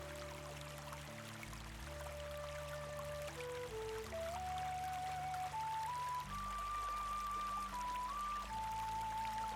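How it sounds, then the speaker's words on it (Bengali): Water poured into malpua batter in a bowl, a steady gentle stream whose pitch rises gradually as the container fills, quiet and close with no talking. "একটু জল লাগবে।"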